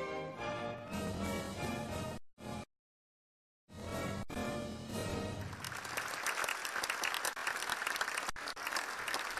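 After a performance of the ballet Sleeping Beauty, the orchestral music cuts off, a brief silence follows, and then a large audience breaks into sustained, loud, even applause that carries on to the end.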